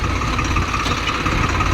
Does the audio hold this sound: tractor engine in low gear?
yes